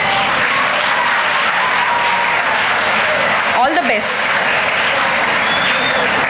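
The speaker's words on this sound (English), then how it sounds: "Please clap for them." Student audience applauding steadily at an induction program, a dense continuous clatter of many hands filling the room, with a brief spoken voice over it near the middle.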